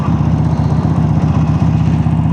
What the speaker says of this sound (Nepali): बाइक नचलाएको धेरै भएको थियो चलाइदिउँ न त भनेर